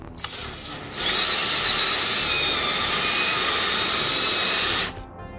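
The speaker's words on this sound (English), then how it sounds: "Drill with a brush." A drill with a brush attachment scrubs a car's interior, a loud steady high-pitched whine running continuously for about four seconds after a quieter start, then cutting off abruptly.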